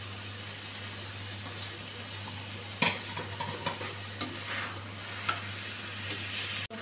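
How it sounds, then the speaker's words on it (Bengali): Fried shrimp and potatoes drop into a sizzling spice paste and get stirred, with a constant frying hiss, scattered scrapes and clinks of a utensil against the pan, and a low steady hum underneath. "এখন ভেজে রাখা চিংড়ি মাছ আর আলুগুলা দিয়ে দিচ্ছি।"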